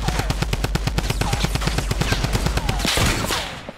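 Automatic gunfire in the video game Fortnite rattles out in a long, rapid, evenly spaced burst of loud shots, close and sharp, ending in a final cluster before fading.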